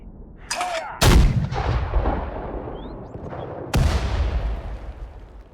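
Artillery fire in the WWII strategy game Sudden Strike 4, Battle of the Hedgerows: two loud, close booming blasts about three seconds apart, each rolling off into a long rumbling tail over a continuous battlefield din.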